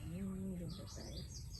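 A bird gives faint, high, sweeping chirps for a second or so, quiet against steady background hiss, just after a brief low vocal sound at the start.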